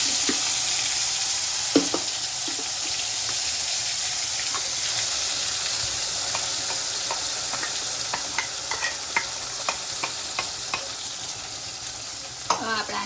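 Chickpea curry gravy going into a hot pan with cumin, sizzling and hissing steadily up close while a spoon stirs and scrapes now and then. No one speaks.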